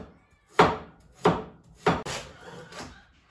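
A knife chopping a piece of beef on a board at home, four sharp, separate chops at an unhurried, slightly uneven pace, close and clear with quiet in between.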